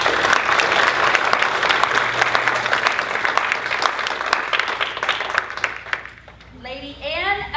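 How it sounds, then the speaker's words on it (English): An audience at a classical academy ceremony applauds a newly dubbed lady, a loud sustained wash of clapping that fades near the end as a voice begins speaking. "Let's give her a round of applause."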